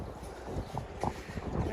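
Strong wind blows outdoors on Surf Avenue at Coney Island, a steady rumbling gust noise on the microphone with faint thumps and no clear voices.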